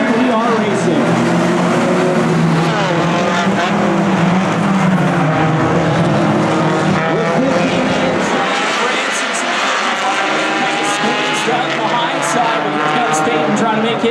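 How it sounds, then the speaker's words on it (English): Hornet class race cars roaring around a speedway at the start of a main event, a loud continuous engine drone with shifting pitch as the pack passes, under steady race commentary over a public address. "Main event for the A's, and the green flag is in the air. We are racing."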